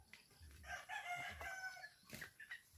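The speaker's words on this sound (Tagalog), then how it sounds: "Manok o gasabungay na pod." Chickens cluck and a rooster crows faintly in a home yard, the calls soft and somewhat distant, with no talking.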